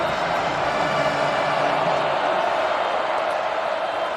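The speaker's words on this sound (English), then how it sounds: "Predominantly a pro-Clemson crowd here." A big pro-Clemson crowd at the ACC championship college football game in Charlotte, Clemson against SMU, a steady broad stadium roar that holds at one level throughout, with no single cheer standing out.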